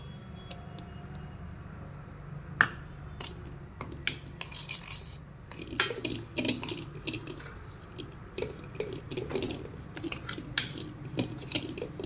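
Medu vada batter mixed with buttermilk in a bowl makes irregular scraping, squelching strokes and occasional sharp clinks of a spoon against the bowl, heard up close with no talking.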